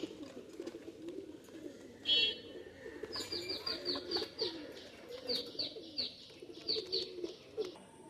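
Pigeons, including Pakistani high flyers and school-type birds, coo in repeated soft rumbling phrases close by, with a few brighter chirps and faint background murmur.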